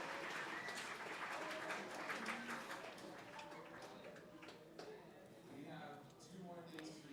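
Audience at a Montreal community forum applauding sponsors, a steady wash of clapping filling the room for several seconds and thinning toward the end, with voices mixed in.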